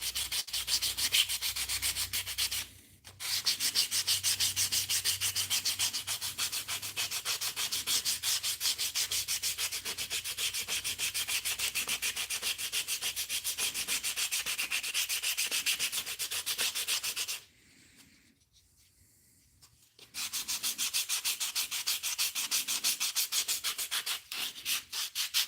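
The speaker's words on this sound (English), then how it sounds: "now we can just regular hand sand this" A wooden musky crankbait is sanded by hand with long steady rubbing strokes, a continuous close scratchy rasp with two short pauses.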